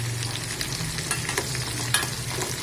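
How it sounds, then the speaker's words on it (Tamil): Garlic sautéing in plenty of sesame oil for a Tirunelveli-style vathal kuzhambu, a steady close sizzle and crackle of frying with occasional stirring scrapes, no voices. "பூண்டு நல்லா வதக்கிக்கிட்டு எப்போவுமே வத்த குழம்புக்கு அதிகமாக நல்லெண்ணெய் ஊற்றுங்க."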